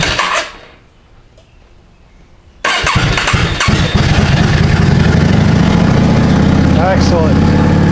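A Yamaha V Star 650 motorcycle with freshly cleaned carburetor jets and the choke pulled: a brief quiet pause, then the engine cranks and catches, settling into a loud, steady, rumbling idle close by.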